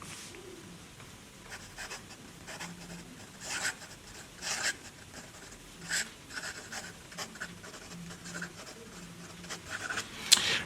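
Scribe nib of an Esterbrook Estie Oversize Nouveau Bleu special-edition fountain pen writing cursive on paper, heard as close, soft scratching strokes in short intermittent bursts over quiet room tone.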